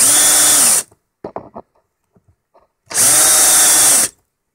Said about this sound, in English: Now I've got to countersink these quite deeply because the countersunk screws have very little clearance between the heatsink and the underside of the fan